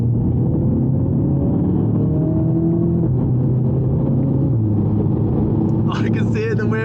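An Audi TT Quattro's engine drones loudly and steadily from inside the car on a drive through tight corners, its pitch stepping down after a downshift, with a brief higher whine near the end.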